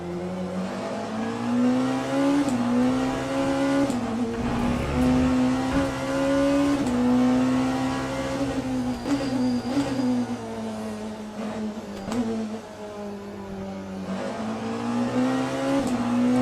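A Le Mans Ultimate race car engine revs up and down repeatedly, its whining pitch rising and falling through gear changes, loud and close with no talking.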